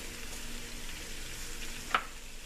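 A spinach and egg scramble fries in a pan as it is stirred, a soft continuous sizzle with one brief scrape of a utensil near the end.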